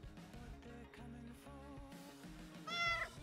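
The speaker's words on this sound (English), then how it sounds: "Say hello to the cat, everybody." A single meow from a female house cat rises near the end, faint and fairly close, over steady background music with no talking.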